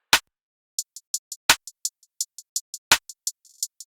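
Dry hi-hats in a mix without console processing, ticking in a quick steady pattern of crisp closed strokes, punctuated by three heavier full-range hits spaced about a second and a half apart.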